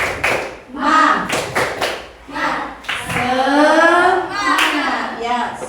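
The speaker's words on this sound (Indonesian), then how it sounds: "Tepuk semangat." A class of children claps a rhythmic spirit-clap pattern in a classroom during an Indonesian lesson, loud bursts of hand claps mixed with children's chanting voices.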